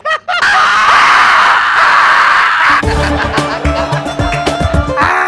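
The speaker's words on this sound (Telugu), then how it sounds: "ఎందుకు అరుస్తున్నావు?" A man screams loudly in a comedy skit, a shrill, sustained cry lasting over two seconds, then it breaks into choppy, clattering noise and shorter outbursts.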